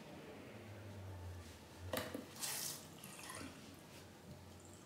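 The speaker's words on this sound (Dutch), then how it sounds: "afspoelen met water" A face is rinsed with water during a skincare cleansing routine. Faint, soft splashes peak in two short bursts over a quiet, steady watery background.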